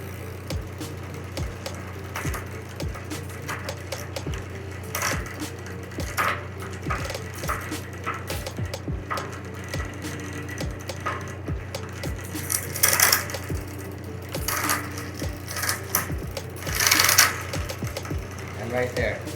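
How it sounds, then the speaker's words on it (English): Bicycle jockey wheels on a single speed bike converted to gears tick and whir while it is pedalled and shifted, a steady mechanical rattle with regular clicks and a low hum, with speech at times over it. "The other noise that you're hearing is not because of the shifting adjustment, it's because of the jockey wheels."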